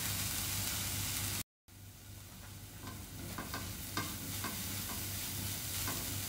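Cabbage stir-frying in a pan, a loud continuous sizzle with scraping stir strokes, briefly cut to silence before resuming with clearer clatter and hiss.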